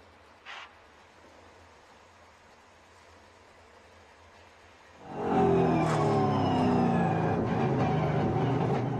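A NASCAR Whelen Euro Series race car on an onboard lap at the Zolder circuit in Belgium: near-silence for about five seconds, then a loud, sustained engine roar with rising and falling harmonic sweeps as the car accelerates.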